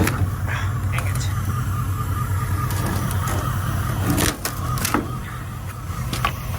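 A 1950 Cadillac engine idles roughly and unevenly in a steady low rumble, with a few clunks and knocks near the end.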